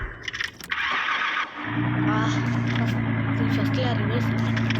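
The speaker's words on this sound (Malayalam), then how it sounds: "വണ്ടിയുടെ സൗണ്ട് കേട്ടോടാ സ്റ്റാർട്ട് ചെയ്യുമ്പോൾ" Offroad car engine in the mobile game Car Parking Multiplayer 2 cranks briefly after some clicks, then catches and settles into a steady, loud low idle hum.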